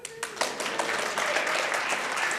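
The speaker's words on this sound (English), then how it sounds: "Please clap." Audience applause at a live talk builds quickly, a brief scatter of hand claps swelling into moderate continuous clapping heard alone.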